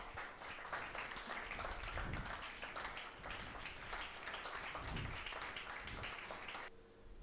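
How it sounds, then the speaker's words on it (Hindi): A church congregation claps loudly and continuously in a sustained round of applause, with some swells in intensity and no talking over it. "रॉयल प्रीस्ट लिए जोरदार तालियां बजा दो."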